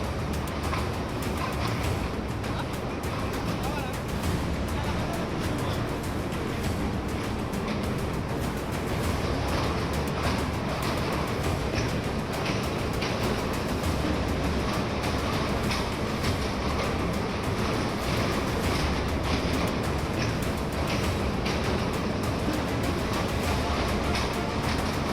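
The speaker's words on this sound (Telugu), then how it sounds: "పది కిలోమీటర్లు దాటి ముందుకు వెళ్తున్నాం లోకో ట్రైన్లో." A loco train runs through a tunnel toward an accident site, giving a steady, loud, continuous rumble and rattle with faint rhythmic clatter that never lets up.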